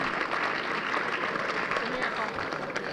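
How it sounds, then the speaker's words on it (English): Dense, continuous applause and clapping from an audience at a high school college sports signing ceremony, filling the room steadily from start to finish. "give a round of applause to him for not killing me"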